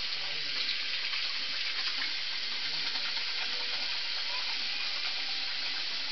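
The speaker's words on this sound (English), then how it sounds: "So I'm going to go ahead and cleanse my skin." Running water splashes steadily while a face is washed with water and face wash, a soft, even hiss without pause.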